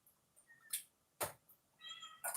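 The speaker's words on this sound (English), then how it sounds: "Kitty cat wants to smell the green bean." A house cat gives a quiet, close meow near the end in a kitchen, amid a few faint clicks and rustles, with no talking.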